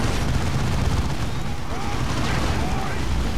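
Melter grenade explosions and battle noise from the Warhammer 40k Dawn of War 2 video game form a dense, loud, continuous wash of blasts and gunfire.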